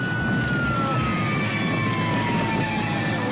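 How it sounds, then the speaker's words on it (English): A police car siren wails steadily in a slow falling sweep over loud road and wind noise, heard from nearby outdoors throughout the clip. "Which way is cop car?"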